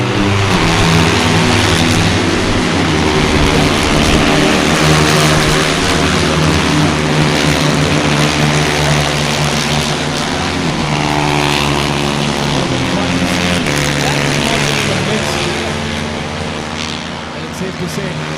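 Yamaha R3 racing motorcycles scream past at a national championship race, their engines revving and rising and falling in pitch. A commentator talks continuously over the loud engine noise.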